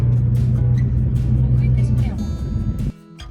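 A car drives through Hamburg city traffic toward the autobahn, its steady low engine hum heard from inside under ongoing talk, then dropping away sharply near the end.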